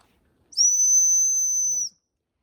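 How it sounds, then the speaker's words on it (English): A single shrill blast of a handheld dog whistle rings out for about a second and a half, piercing and steady, alone against near silence. "this is a dog whistle, and supposedly it hurts their ears"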